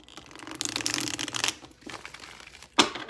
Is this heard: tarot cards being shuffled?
yes